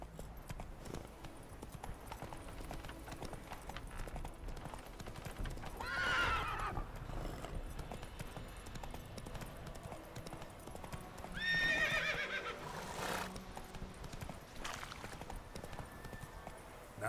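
In The Witcher 3 game, a horse gallops with rhythmic clip-clopping hooves throughout, and two loud neighs or whinnies break in partway through, all fairly quiet overall.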